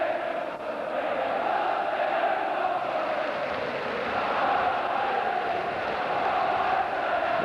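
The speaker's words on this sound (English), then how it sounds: "We're going to win the league, chant the crowd." A large football crowd at a 1995/96 Division One match between Sunderland and Millwall chants in a steady, sustained roar, heard from a distance with no break throughout.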